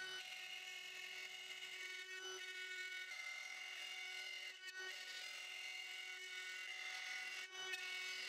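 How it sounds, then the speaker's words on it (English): A cordless router fitted with a 1/4 inch upcut spiral bit cuts a circle into wood, producing a steady high whine with a bright tonal hum and brief dips as the cut shifts. "To cut the circle, I'm using a 1/4 inch upcut spiral bit and lowering it about 1/8 inch for every"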